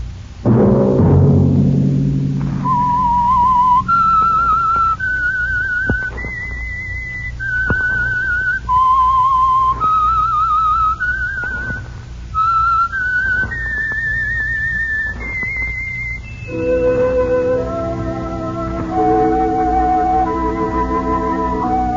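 A clear, loud whistled melody plays alone as the signature theme of a radio program, stepping through a tune of sustained notes with a lower tone accompanying it near the end.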